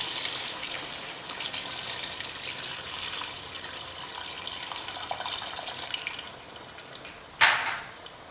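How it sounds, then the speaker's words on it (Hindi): About 750 grams of water poured into a pan of Kadaknath chicken curry, one steady close splashing pour that runs several seconds, then a sharp clink and a brief louder splash as it ends, without talk. "लगभग 750 ग्राम हमने पानी डाला इसके अंदर।"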